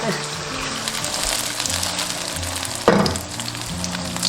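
Tofu pan-fried in oil until golden on the bottom sizzles steadily in a small pan, with a brief louder spatter near the end as pieces are flipped.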